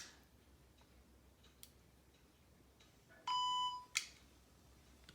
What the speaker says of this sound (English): So that just beeped and it told me it was on.